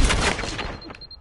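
Blind gunfire in the video game Firewall Zero Hour: a quick, loud burst of overlapping shots that stops within a second, followed by a thin ringing tone.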